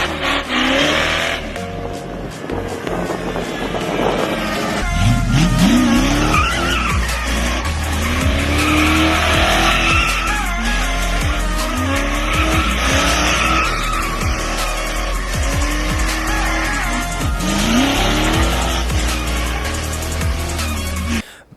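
A 1996 or 1997 Ford Mustang with a swapped 5.0 engine drifts, loud and close, its engine rising and falling in repeated revs while tyres squeal and skid continuously without any talking.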